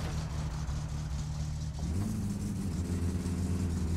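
A car engine in the My Summer Car driving game, a Satsuma fitted with a racing carburetor, holds at high revs with a steady loud drone that shifts pitch slightly upward midway.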